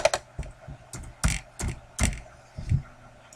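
Keys tapped on a computer keyboard while entering a margin value in a spreadsheet page setup dialog, a handful of sharp, close clicks in an uneven rhythm with short pauses between them.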